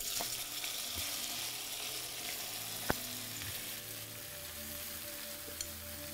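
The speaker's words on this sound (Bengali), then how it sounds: "যখনই দেখবেন 5 ফোড়নটা এইভাবে ক্র্যাকেল হওয়া শুরু করবে" Bengali five-spice seeds tempering in hot oil for an amla pickle: a faint, steady sizzle with a couple of sharp isolated pops, quiet and close, without any voices.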